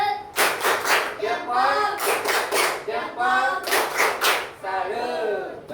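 A group claps a rhythmic salute chant at a school coaching and supervision session, in several loud bursts of patterned claps with voices chanting between them.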